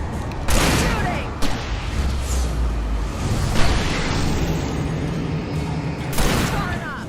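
Gunfire in Alan Wake rings out as several loud, close, separated shots with booming tails, scattered across the scene alongside a low rumble and brief voices.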